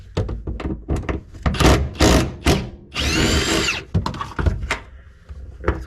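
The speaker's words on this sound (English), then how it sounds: "Next up is taking these two bolts out from in the boot." A power tool whirs in short bursts as two bolts come out of the boot of a Ford Sierra Cosworth 4x4, mixed with clunks and knocks of handling, close up.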